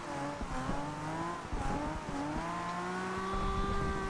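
A 1969 Nissan Fairlady Z drifting in the racing game Forza Horizon 2, its engine holding a steady, fluctuating whine with rising and falling pitch as tires scrub and squeal, continuous and moderately loud without talk.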